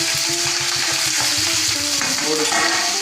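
Chopped green chillies frying in hot oil in a pan give a loud, steady sizzle throughout, with light stirring scrapes mixed in close by.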